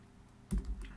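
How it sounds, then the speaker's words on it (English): A few quick clicks of a computer keyboard being typed on, a short burst of keystrokes in a quiet room with no voice. "I'll just type it out."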